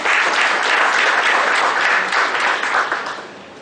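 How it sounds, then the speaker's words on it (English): A workshop audience gives a round of applause, steady, close clapping from many hands that fades away over the last second. "Please welcome him with a round of applause."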